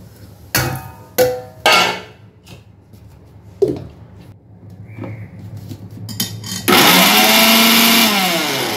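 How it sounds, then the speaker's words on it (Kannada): Mixer grinder grinding curry leaves for curry leaf powder: several sharp clanks and knocks of the jar being handled, then the motor kicks in loud and whining, running continuously to the end. "ಕರಿಬೇವು ಹಾಕ್ಕೊಂಡ್ಮೇಲೆ ಮಿಕ್ಸಿ ಮಾಡ್ಕೊಂಡ್ವಲ್ಲ"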